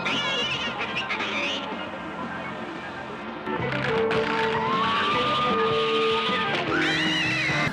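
A cat meows and yowls in drawn-out wavering cries over a busy background of other film sounds and music, loud and up front.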